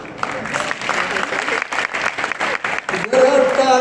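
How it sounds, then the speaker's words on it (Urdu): Audience at the Islamabad Literature Festival clapping steadily, dense close applause that swells louder near the end, with voices talking over it. "ذرا تالیاں روک لے"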